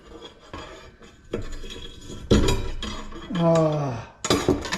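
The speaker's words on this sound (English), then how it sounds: "So we got this little knife sharpener thing." Knife drawn through a small handheld knife sharpener, a few gritty metallic rasps and scrapes close by, with a brief ringing clink in between.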